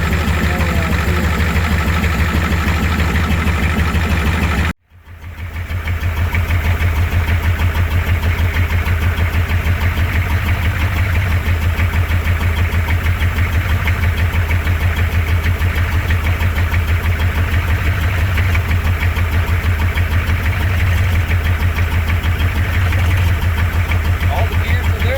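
An International 7.3L IDI diesel engine, revived after sitting in a field for decades, idles with a steady, loud, rhythmic clatter close by; a brief dropout near the start before the running sound resumes unbroken.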